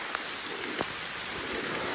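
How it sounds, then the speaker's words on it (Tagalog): Heavy rain falls steadily in a dense, even hiss, with a few faint sharper drops and taps over the wash. No voices are heard. "Nya bunok ang ulan"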